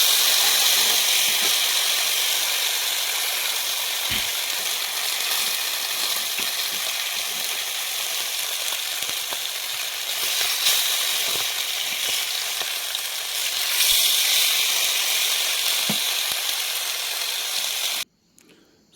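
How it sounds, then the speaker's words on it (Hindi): Fish fries in hot oil with a loud, steady, close sizzle that crackles and hisses continuously before cutting off abruptly near the end. "डबल से चलो फ्राई करना"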